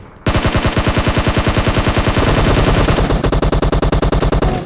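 Rapid automatic gunfire in PUBG Mobile, a loud, close burst of evenly spaced shots that starts abruptly and runs continuously, slightly thinning in tone toward the end.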